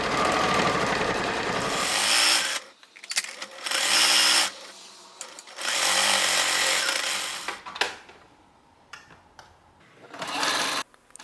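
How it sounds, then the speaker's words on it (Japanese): Sewing machine quilting evenly spaced lines through layered small fabric scraps, loud close bursts of rapid stitching lasting one to two seconds each, separated by short pauses, with a final burst after a quieter stretch. "次からはミシンのガイド線を見ながら等間隔でキルトミシンをかけていこう。"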